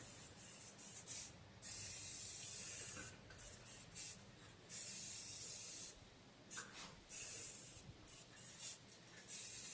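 Bursts of spray paint hiss on and off, short and longer sprays separated by brief pauses, fairly quiet and close.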